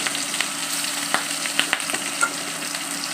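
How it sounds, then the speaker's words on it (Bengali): Fish frying one by one in hot oil in an iron wok, a steady close bright sizzle with a few soft clinks and crackles scattered throughout, no talking. "কড়াইটা গরম হয়ে আসছে আর তেলটা দিয়ে দিচ্ছি। গরম হয়ে আসছে, এখন এক এক করে মাছগুলো দিয়ে দিচ্ছি।"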